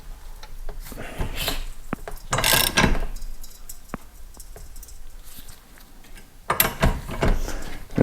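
A ratchet tightens an exhaust pipe expander on a Jeep Liberty turbo diesel, producing clusters of quick close clicking strokes with pauses between them and a few metallic knocks.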